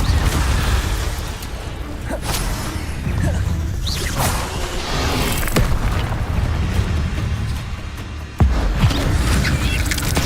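Spell impacts from Hogwarts Legacy, with loud booms, crashes and whooshing blasts hitting in quick succession over continuous battle noise, with a voice calling out over the action.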